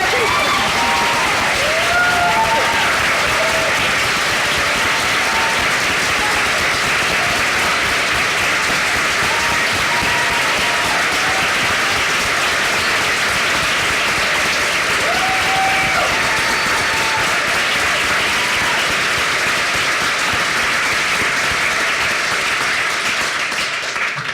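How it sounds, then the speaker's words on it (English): Public forum audience at the University of San Francisco gives teachers a long, sustained round of applause, dense and even clapping with a few scattered cheers and whistles throughout. "let us give you one more round of applause and gratitude"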